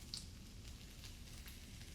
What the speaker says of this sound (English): If you listen carefully, you can hear the pan starting to sing.